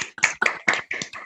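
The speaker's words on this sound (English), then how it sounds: "Let's all unmute and listen to the applause for Sean Hyde, Latrice Belt, Linda Brown" Participants in an online community town hall on public housing unmute and clap, giving a few separate, close-up claps in an uneven rhythm over about a second.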